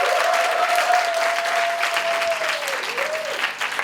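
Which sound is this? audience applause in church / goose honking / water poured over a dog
audience applause in church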